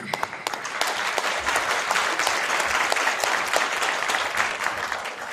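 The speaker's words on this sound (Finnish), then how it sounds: "Annetaan sille aplodit." Audience applause at a rockabilly pin-up show in Nastola, a dense, steady clapping that stays loud and close for the whole stretch, with crowd noise underneath.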